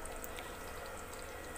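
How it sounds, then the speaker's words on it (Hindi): About half a cup of spiced masala water poured into a cooking pot of chicken for korma-style pulao, a quiet, steady liquid pour lasting over a second, with a soft clunk at the end. "अब साथ ही मैं इसमें मसाले का पानी ऐड कर दूँगी"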